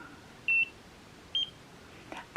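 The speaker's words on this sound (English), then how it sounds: "even when I get the beep indicating that I'm doing something wrong" A Nira skincare laser gives two short, clean electronic beeps about a second apart, moderately loud against a quiet room, followed by a faint rustle.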